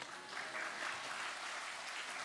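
A congregation at a Sunday afternoon church service applauds to welcome a missionary, a soft, steady wash of clapping heard from a distance, low in level, with no distinct voices on top.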